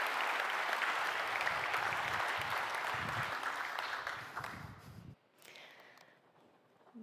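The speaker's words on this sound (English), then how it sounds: "let's give a warm round of applause to Daniel, everyone" An audience applauds at a corporate technology keynote, the dense clapping running loud and steady for about five seconds before cutting off, then fading into a quieter hall with faint stray sounds.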